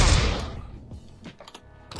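Gunfire in the VR shooter game Pavlov: a loud opening shot decays quickly, followed by a few fainter, scattered pops and thumps in the distance.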